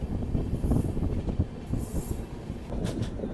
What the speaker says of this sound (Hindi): बाकी ये अपनी ट्रेन पहुंच रही है बडनेरा जंक्शन रेलवे स्टेशन।